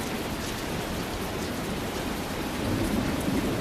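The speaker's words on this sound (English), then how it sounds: "It's raining. Yeah, it rains here a lot in Stoneberry." Steady rainfall in the video game Tales of Berseria, a constant hiss of drops with a low rumbling undertone, soft and even throughout, with no voices.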